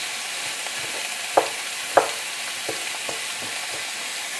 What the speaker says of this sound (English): am now adding the leek to the pan. And I want to fry this for a little bit.